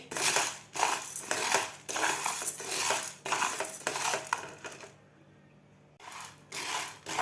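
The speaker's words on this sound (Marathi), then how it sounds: "त्या पॅनमध्ये आपल्याला हे साबुदाणा भाजून घ्यायचा आहे मीडियम गॅसवर" Sago pearls dry-roasting in a pan over medium gas, stirred with a spoon in a steady run of close, rhythmic scraping and rattling strokes with a short pause near the end, no talking.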